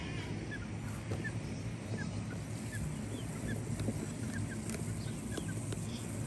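Barred Rock hens in a coop give short, scattered clucks and calls over a constant low background rumble, moderately close and fairly faint.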